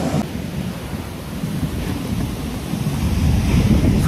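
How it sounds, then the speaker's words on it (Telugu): Big surf crashing on a beach at Poovar, Kerala: a deep, continuous rumbling roar that swells toward the end, with wind buffeting the microphone and no voices. "ఎంత పెద్ద అల ఉంది చూడండి"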